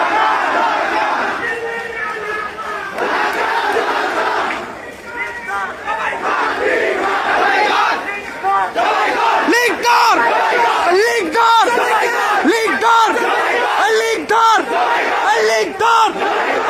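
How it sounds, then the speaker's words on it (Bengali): A large crowd chants the Joy Bangla slogan inside a hall, a dense roar of many voices with rhythmic shouted bursts and yells that swell and repeat throughout. "হল টুর ভিতরে কে যেন জয় বাংলা স্লোগান দিচ্ছে"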